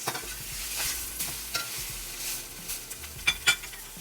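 Salisbury steak patties sizzling steadily in a hot pan just after being flipped, a continuous close frying hiss with a few light utensil clinks near the end.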